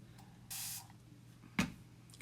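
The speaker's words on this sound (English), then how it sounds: "I'm just gonna spray my canvas with a little water" A spray bottle mists water onto a craft canvas in two short, close hissing bursts, the first longer and the second a quick sharp puff, with quiet room tone between.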